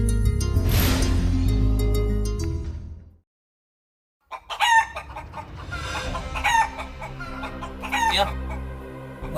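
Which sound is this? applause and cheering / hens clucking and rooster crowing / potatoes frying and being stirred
hens clucking and rooster crowing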